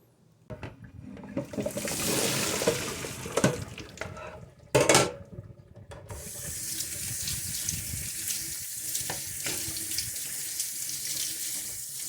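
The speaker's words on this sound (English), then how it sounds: "I'm going to let these boil for a minute and then rinse them with cold water" Water runs steadily from a tap into a pot, with occasional clinks and clatters of cookware as boiled onions are rinsed with cold water; close and continuous.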